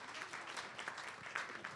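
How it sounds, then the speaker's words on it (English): Lunch conference audience gives a short round of applause, quiet and somewhat distant, with scattered individual claps rising and falling over under two seconds. "So I want to give Stephanie a round of applause for that."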